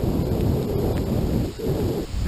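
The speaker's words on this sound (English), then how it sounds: "There's our second waterfall." A trailside waterfall roars in a broad, continuous wash of rushing water, loud and close, with faint rustling on top and no voices.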